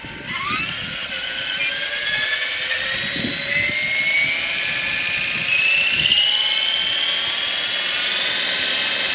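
A radio-controlled helicopter spools up on the ground before its maiden flight, its turbine-like whine rising steadily in pitch as head speed increases, loud and close, with a sustained high-pitched motor and rotor tone and no voices.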